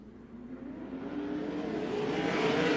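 360 winged sprint car engines roar as the field takes the green flag at a night race at Central Arizona Raceway, a steady, building engine drone with no talk.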